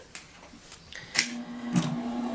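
A sewing machine stitching a small fabric zipper bag makes short whirring bursts with a faint mechanical tone, close and moderately loud, with brief pauses between runs and no talking.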